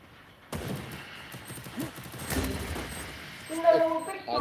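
Gunfire in the shooter game Free Fire, bursts of shots that begin abruptly and repeat through the stretch, fairly quiet overall with someone talking over the action.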